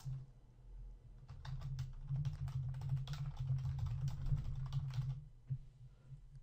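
Rapid clicking of keys on a computer keyboard as code is typed, a dense run of light taps lasting several seconds over a low steady hum, with brief pauses at the start and end.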